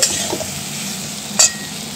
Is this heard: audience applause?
no